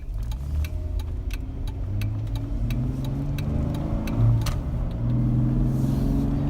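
A Jeep JK engine fitted with a Ripp cold air intake revs up and holds at a steady, throaty mid-pitched drone, close by and loud, with a slight rise toward the end.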